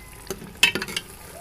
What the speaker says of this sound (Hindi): अब इसमें मैंने ये शिमला शामिल कर दिया है, सबसे पहले इसको भूनूंगी 2 मिनट के लिए